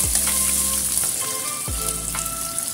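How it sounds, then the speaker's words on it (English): Green onion, ginger and garlic stir-fry in hot oil for a braised beef shank dish, giving a loud, steady close sizzle with a few soft stirring scrapes and no voices. "Then add in green onion, ginger, and garlic. Stir fry a little bit."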